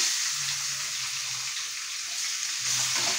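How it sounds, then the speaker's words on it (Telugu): Onions fry in oil left over from frying fish for a dried fish curry, giving a constant close crackling sizzle with faint low hum in places and no speech. "ఈ నూనెలోనే మనం ఉల్లిపాయలు వేసుకుందాం అండి"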